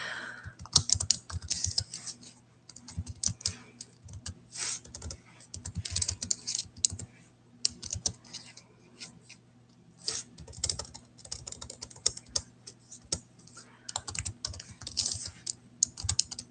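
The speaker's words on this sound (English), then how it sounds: "Do I type this in here?" Computer keyboard typing in irregular bursts of quick clicks with short pauses between, close and fairly quiet over a low steady room hum, with no talking.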